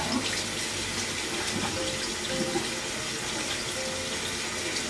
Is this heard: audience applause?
no